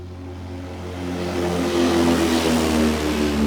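A Just Flight PA28 Archer III piston engine drones past in X-Plane 12, a steady low hum that swells slightly louder mid-pass and holds without speech.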